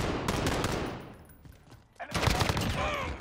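Rapid gunfire bursts in a Call of Duty match, loud at first, fading to a quieter stretch, then a fresh burst of shots near the end, with faint voice chat underneath.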